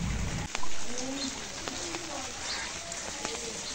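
Rain falls steadily on a village street lined with shops, a dense wash of patter with a few sharper drips standing out, close by and continuous.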